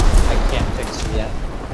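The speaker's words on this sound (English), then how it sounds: "The artillery knocked my tracks off." An artillery shell strikes a tank in the War Thunder video game, a dense, loud, rumbling blast that fills the whole short moment with broadband roar and heavy low-end thump.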